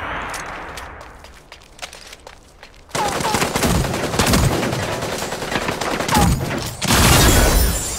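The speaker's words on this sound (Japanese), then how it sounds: "銃声よ、気を引き締めて。" Rapid bursts of gunfire from the mech combat video game Super Mecha Champions, loud and close, beginning after a quiet opening and continuing in dense volleys with a heavier blast near the end.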